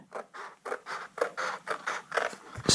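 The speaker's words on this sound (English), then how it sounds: "taking my scissors, and I'm going to cut around" Scissors cut through a paper label in a steady run of about a dozen crisp snips, each a short rasping crunch at an even rhythm, close and clear.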